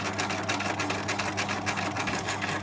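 A sewing machine stitches steadily along the seam of a fabric pencil case, its needle keeping up a fast, even, loud mechanical chatter close by for the whole stretch.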